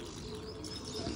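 Pigeons coo softly in a pigeon keeper's loft, a brief, steady murmur of cooing and bird calls mixed with faint rustling.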